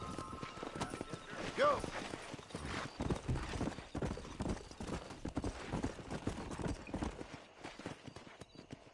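Horses galloping hard across open ground in the Red Dead Redemption video game, a dense rapid clip-clop of hooves with a brief neigh early on, while voices talk over the ride.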